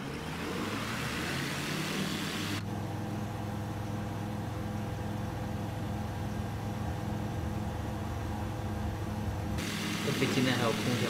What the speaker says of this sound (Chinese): 来，加油门。